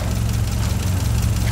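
A cold GAZ-24 Volga engine idles roughly with new spark plugs, a loud, steady low rumble with a slightly uneven, misfiring pulse close to the car, and no talking.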